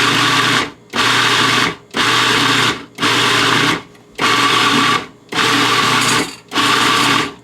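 Blender pulsing raw carrots into pulp, seven loud whirring bursts of about a second each, separated by brief silences.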